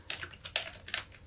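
Keys on a computer keyboard are tapped at a steady, quick pace, each press a crisp click close by, with no voices over them.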